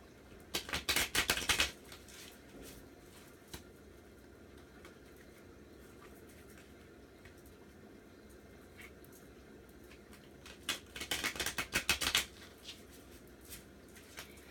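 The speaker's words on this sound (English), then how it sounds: "I just want to shuffle them one more time." Two quick bursts of a new deck of cards being riffle-shuffled, a rapid fluttering clatter near the start and again near the end, with quiet room tone between.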